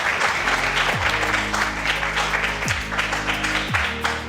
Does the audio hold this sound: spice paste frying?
no